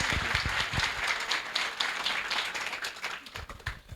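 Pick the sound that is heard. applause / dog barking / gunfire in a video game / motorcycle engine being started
applause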